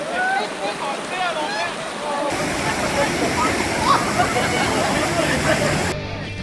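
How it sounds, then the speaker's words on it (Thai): A small waterfall near moored river-rafting boats rushes in a steady broadband wash, with chirping birds at first and people talking in the background. "น้ำตกเล็กๆ อยู่ใกล้ๆตรงเรือจอดนี่แหละครับ"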